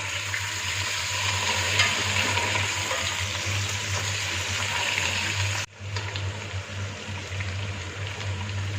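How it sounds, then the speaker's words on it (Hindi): Chicken pieces fry and sizzle in a pan for Kabuli pulao, giving a steady close hiss with a low hum underneath and a brief stir-like break partway through, with no talking. "चिकन जो है ये आहिस्ता आहिस्ता अपना कलर बदल रहा है और बहुत अच्छे से फ्राई हो रहा है"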